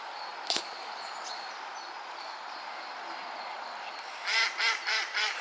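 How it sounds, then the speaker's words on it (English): Ducks quack in a quick run of several calls near the end, after a single sharp sound early on, over a faint steady outdoor background of distant traffic. "So you can hear the ducks having a laugh."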